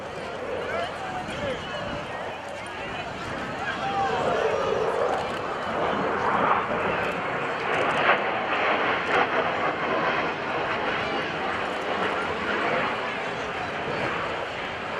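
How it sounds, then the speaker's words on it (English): An F/A-18F Super Hornet of the VFA 106 Gladiators demo team makes a slow inverted pass at the NAS Oceana airshow, a fairly subdued jet roar that swells and fades under an announcer's talk. "These are the Gladiators from the VFA 106 Rhino demo team and the inverted whisper pass."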